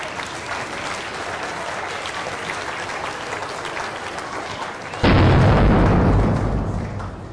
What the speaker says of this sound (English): So this is how we make the bangs in fireworks.